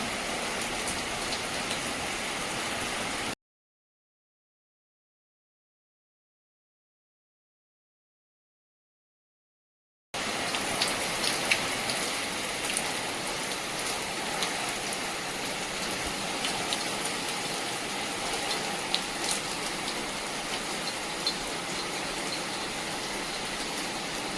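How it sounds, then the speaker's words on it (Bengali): Heavy rain pours down in a dense, steady hiss, interrupted by a stretch of total silence before the downpour resumes just as strongly. "বৃষ্টিটা জোরে চলে এলো"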